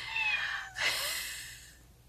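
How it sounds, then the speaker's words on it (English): A single drawn-out cat meow, fairly quiet and close, rising then trailing off, with a brief breathy break partway through. "And you can hear the cat."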